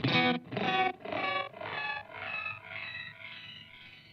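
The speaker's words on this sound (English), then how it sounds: "if I turn up that post feedback again, every time it repeats, it will shift up." Dreadbox pedal delay with feedback turned up, one distorted sound repeating about eight times, each echo shifting higher in pitch and fading steadily quieter.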